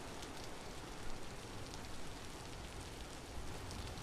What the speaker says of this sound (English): I don't know if all this rain's gonna bite me in the butt.